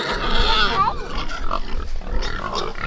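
Several farm-raised pigs grunt and squeal loudly and close by, a busy overlapping chorus of rough snorts and higher squeals throughout.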